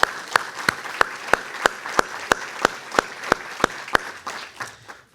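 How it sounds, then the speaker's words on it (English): At an enterprise project forum, one nearby pair of hands claps in a steady, regular rhythm over a soft background of crowd applause, which fades out after about five seconds. "join me in a quick round of applause for all of us for all the work that's gotten us here"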